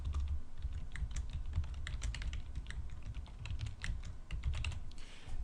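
Rapid, uneven clicking of computer keyboard keys as someone types entries into a web form's text box, close and steady throughout with a low background hum and no talk.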